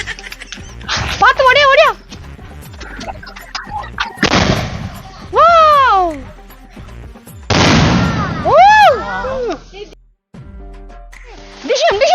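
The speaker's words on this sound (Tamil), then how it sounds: "இன்னும் அருமையா வெடிக்குது பட்டாசு எல்லாம் ஏய் பட்டாசும் சூப்பரா வெடிக்குது" Firecrackers go off in several loud, crackling bursts a few seconds apart, with excited children's voices shouting between and over the explosions.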